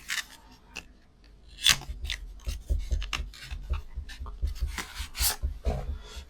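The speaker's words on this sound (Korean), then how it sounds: "우선 이렇게 박스에 담겨져 있는데 한번 열어보겠습니다" Close scraping, tearing and rustling of cardboard as a box is pulled open, with irregular rubbing and snipping sounds, fairly quiet.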